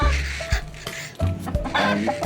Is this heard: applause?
no